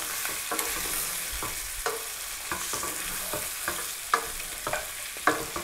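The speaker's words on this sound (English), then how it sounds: "I'm going to stir this up" Chicken curry with habaneros or Thai chilies stirred in a sizzling pan, a spoon scraping in repeated irregular strokes over a constant frying hiss, close and with no voices.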